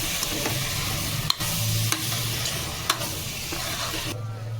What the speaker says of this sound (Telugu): ఇప్పుడు శుభ్రంగా కలిపేసుకోవాలి